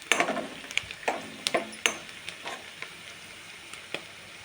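Chana dal, mustard seeds and cumin fry with onions in hot oil, giving a soft continuous sizzle broken by sharp crackles and pops, busiest at first and thinning out over a few seconds.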